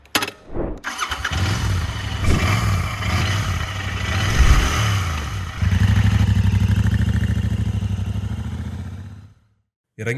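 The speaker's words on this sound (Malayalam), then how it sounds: "ഓരോ തവണ എൻജിൻ സ്റ്റാർട്ട് ചെയ്യുമ്പോഴും കുറേ ദൂരം പോകണം എന്ന് മനസ്സിൽ തോന്നൽ നൽകുന്ന ഒരു മോട്ടോർ സൈക്കിളാണിത്" A Royal Enfield Interceptor 650 motorcycle engine cranks and fires, settles briefly, then catches into a loud, steady idle that runs for several seconds before cutting off.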